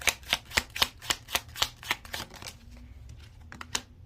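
Golden Tarot cards are flicked and drawn from the deck in a quick, even run of about a dozen crisp, close snaps, then a few sparser, fainter ones.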